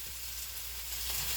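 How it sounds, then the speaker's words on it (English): Half a purple onion and half a white onion sizzle steadily in a hot frying pan, a continuous hissing crackle heard close up, with no talking over it. "Ooh, listen to that sizzle."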